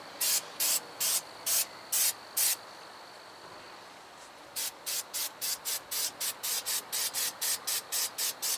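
Rust inhibitor is sprayed onto the rear brake spindle, backing plate and caliper bracket mounts of a 2017 Subaru WRX: six short, sharp aerosol bursts, a pause, then a faster run of about fourteen quick spritzes, close and alone.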